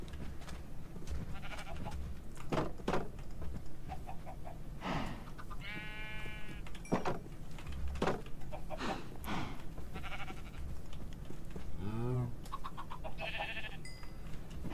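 Sheep and cows penned on a farm in a video game, with repeated bleats and short animal calls scattered over a steady background, several distinct cries rising and falling close by.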